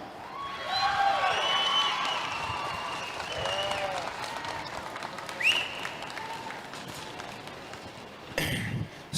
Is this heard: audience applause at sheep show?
yes